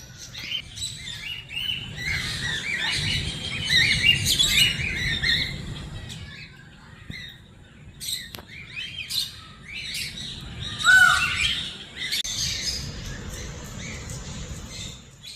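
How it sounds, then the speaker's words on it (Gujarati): A grey and white cockatoo at a zoo gives intermittent chirps and harsh squawks, close and fairly loud, with quiet gaps between bursts. "આવ્યા છીએ રાખોડી અને સફેદ કોકાટી."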